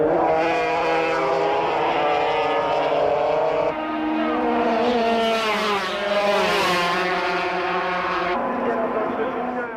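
Grand Prix racing motorcycles from a 1980s or 1990s race roar past in a loud, continuous high-revving whine that shifts pitch as they pass, under French race commentary.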